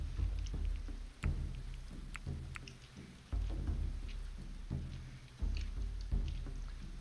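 Rain patters continuously in a medieval survival video game during a raid, a soft wash of falling drops punctuated by several dull, heavy thuds at irregular intervals.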